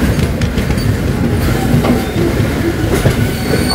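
A train rolls toward the road-cum-rail bridge at Rajahmundry with loud, close, continuous rumbling and clickety-clack wheel beats, a faint wheel squeal running through.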